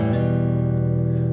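Acoustic guitar chord ringing out with a quick strum near the start and a sustained, steady tone, heard alone and close.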